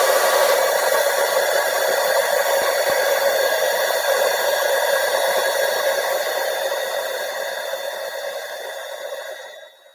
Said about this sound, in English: And now I'm going to heat emboss this.